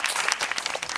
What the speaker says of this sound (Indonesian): Boleh kasih tepuk tangan dulu untuk closing statementnya?